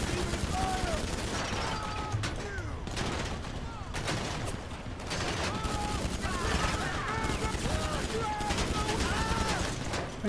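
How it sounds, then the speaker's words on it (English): Repeated gunfire from GTA 5 Online, with bursts of shots and rattling volleys running steadily through the whole stretch, mixed with voices talking over the game action. "where are we getting shot from?"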